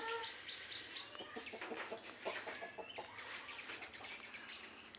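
Domestic chickens cluck repeatedly in a busy farmyard, with several overlapping calls and occasional wing flaps, moderately loud and close, no talking.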